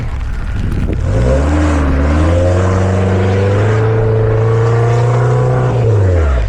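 A 4x4 car's engine revs loudly and steadily on a mountain road toward Nathia Gali while only its rear tyres spin, with a sustained, rising and falling drone that holds for several seconds before dropping off.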